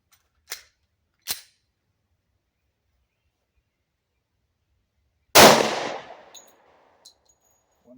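Glock 20 pistol firing 10mm Bear Creek ammunition at an outdoor range: one loud, close gunshot with a sharp crack and a ringing tail, preceded by two small clicks and followed by faint ticks.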